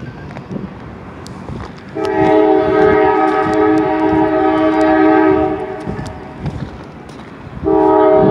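A train rumbles past at a distance, its horn sounding a long, sustained blast that fades, then sounds again near the end.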